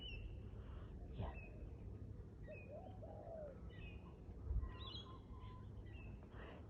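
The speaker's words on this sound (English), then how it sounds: "If anyone recognises the sounds of any birds, maybe you can put it in the comments" Wild birds call in the early morning outdoors, with soft dove-like coos and a few brief chirps and whistles over a low, steady background hum, faint and distant.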